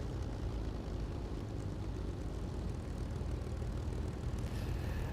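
Propeller aircraft engine in War Thunder being throttled back, a steady low droning rumble at moderate distance that continues evenly with no speech.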